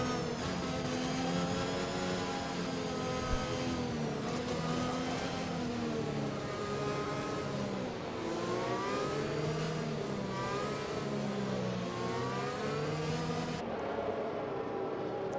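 Sim racing cars overtaking in the Netherlands: several engines howl close by at high revs, pitch sweeping up and down through gear changes as the cars run side by side, steady and loud throughout.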